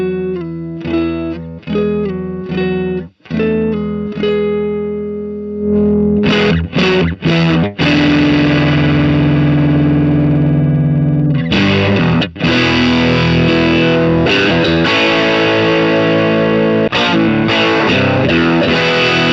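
Electric guitar runs through a KMA Machines Minos germanium fuzz pedal, first with choppy, spaced stabs, then sustained, thick, distorted chords and riffs, loud and close with no talking.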